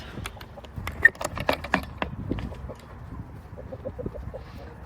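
Chickens cluck in short, irregular bursts, close by, with soft rustling and scratching between calls.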